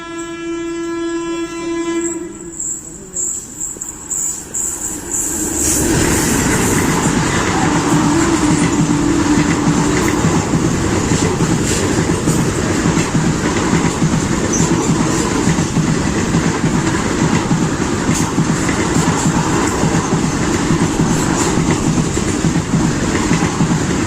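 The Coimbatore-Rameswaram weekly express runs along the track, a long steady horn sounding first, then loud continuous rumble and wheel clatter from close on board, with no voices.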